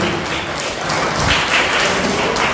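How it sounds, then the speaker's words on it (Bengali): Audience at an International Mother Language Day event in Andaman claps steadily, a dense, continuous patter of applause from a nearby crowd. "আপনারা একটু হাততালি দেবেন, সম্মান তার কাছে পৌঁছাবে।"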